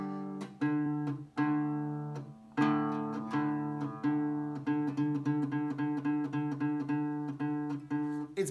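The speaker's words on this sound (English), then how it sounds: "it's because you're plucking the wrong string." A plucked guitar plays a simple melody on the wrong string, starting with slow notes and then speeding into a quick run of repeated notes, clear and up close.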